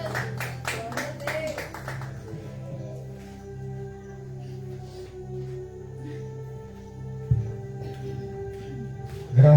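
A church congregation claps its hands in a steady rhythm during a lively worship service, sounding full but somewhat distant, with a speaking voice over the clapping at the start and music humming underneath.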